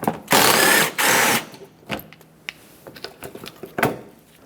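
A ratchet wrench backs out an 8mm-headed screw inside the front fender area of a 2000-2005 Ford Excursion, giving two loud sustained bursts of clicking followed by sparse, quieter mechanical clicks and taps.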